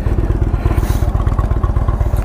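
A 2017 Indian Chieftain Dark Horse with an 1811cc twin engine idles up close, giving a loud, steady, evenly pulsing low thump with light mechanical clatter on top.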